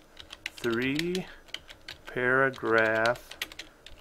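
Rapid computer keyboard keystrokes are heard as an assignment description is entered, with close tapping running between and beneath a person's speech.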